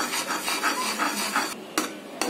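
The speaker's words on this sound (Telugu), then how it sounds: "5-6 పొంగు వస్తున్న ప్రతిసారి గరిటతో అలా కలపండి" A ladle stirring almond milk as it comes to a boil on medium flame, giving a steady scraping, swishing rhythm against the pot, followed by a couple of sharp clinks as the ladle taps the rim.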